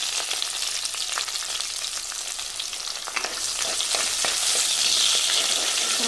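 Ginger and garlic sauté in a pan as an aromatic base for a fish curry, giving a steady, close, continuous sizzle with scattered crackles and stirring scrapes that swells a little louder toward the end.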